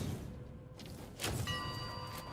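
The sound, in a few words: bell being shot in the video game Where Winds Meet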